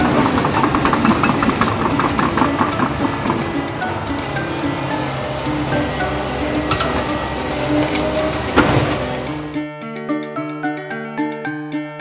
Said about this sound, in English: Wheel loader.